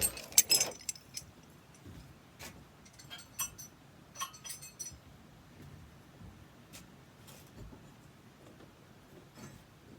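Handmade ceramic pottery spoons in different colors clink together in a burst of bright chinks at the start, then a string of scattered, lighter taps and rattles against a quiet background.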